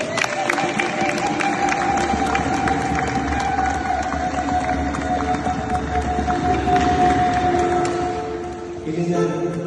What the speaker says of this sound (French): on peut les applaudir déjà.